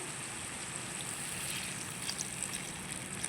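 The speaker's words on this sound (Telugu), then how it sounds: "కొన్ని వాటర్ పోద్దాం" Water poured into a simmering mushroom masala curry gives a steady, soft trickle and gush that runs unbroken and quiet, with nothing else over it.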